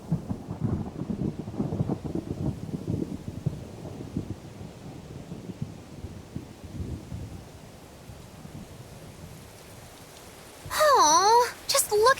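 Rain and rolling thunder during a storm in the video game Tales of Berseria, with steady rainfall and low rumbles under voices, fading quieter before a bright chiming game sound near the end.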